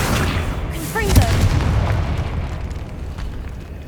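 A Confringo blasting spell in Hogwarts Legacy lands as one heavy, booming explosion with a rumbling tail that fades over a few seconds. A voice speaks just before the blast.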